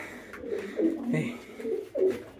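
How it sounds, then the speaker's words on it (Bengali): Pigeons coo in low, throaty bursts repeated three or four times over a couple of seconds, fairly close, with some faint background noise in a home pigeon loft. "এই এখানে তো কবুতর আছে"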